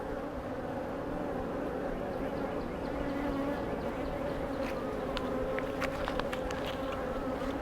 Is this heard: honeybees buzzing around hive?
yes